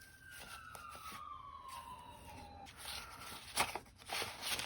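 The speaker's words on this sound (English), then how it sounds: "I live near a fire station and a hospital, so there's a lot of sirens that go off." A faint, distant emergency siren from a nearby fire station or hospital gives a long falling wail under indoor room noise, with scattered soft knocks and rustles close by.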